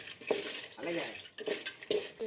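Peanuts stirred in a pan while roasting, with repeated scraping and rattling of a spoon against the metal pan in short irregular strokes, close and fairly quiet.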